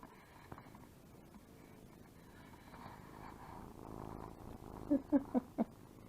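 A soft, low cat purr rumbles steadily close by, followed by a few short, quiet chirps near the end.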